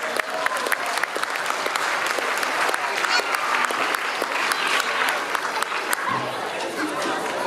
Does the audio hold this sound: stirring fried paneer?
no